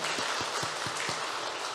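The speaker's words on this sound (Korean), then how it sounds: "하나님께 박수를 한번 영광을 올려드릴까요?" A church congregation applauding during a Sunday worship service, a dense sustained clatter of many hands with a few heavier rhythmic claps near the start, fairly close.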